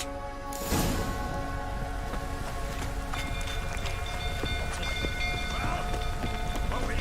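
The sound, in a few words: rain in a video game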